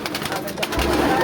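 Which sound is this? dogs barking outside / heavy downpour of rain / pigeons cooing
pigeons cooing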